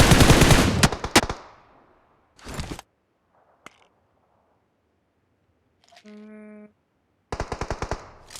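Gunfire in the PUBG Mobile game comes in loud bursts of rapid automatic shots, with a short later burst, a single sharp crack and a brief tonal game beep between the volleys.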